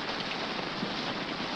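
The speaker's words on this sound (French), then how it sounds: "Il a fondu sous la pluie, hein? Avec cette flotte, tout est à craindre." Steady rain falls in a dense, even hiss with no break, fairly loud and close, with no voices over it; the downpour belongs to a 1951 French-dubbed Western adventure film.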